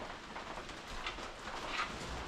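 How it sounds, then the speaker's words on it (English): Heavy rain pours steadily outside a kitchen during cooking, a faint, even hiss of falling water with soft patters, no voices over it. "Yeah, it's pouring outside."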